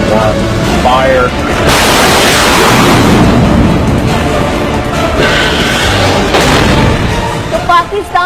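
A missile launch and explosion: a loud, sustained roaring blast that swells and rumbles heavily for several seconds, filling the whole clip, with no talking.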